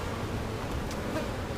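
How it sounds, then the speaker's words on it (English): Honeybees swarm over an open hive with a dense, continuous close buzzing hum, loud and steady throughout, with no voices. "Let me blow some of these bees out of the way"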